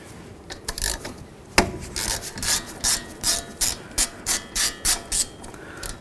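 A ratchet loosens the 13mm caliper slider bolts on a 2009–2020 Dodge Journey. It gives a steady, close series of rasping click strokes in an even rhythm, with one sharp knock early on, and no one speaks.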